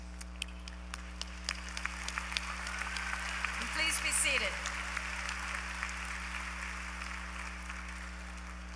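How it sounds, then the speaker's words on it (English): An audience applauds graduate students at a university fall commencement ceremony. The clapping is steady and swells briefly midway, and a voice speaks over it. "Let's applaud the graduate students."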